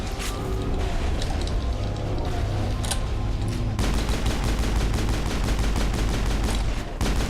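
Sustained rapid gunfire from a firefight in Mass Effect, dense bursts of shots crackling continuously and loudly over rumbling low game background throughout.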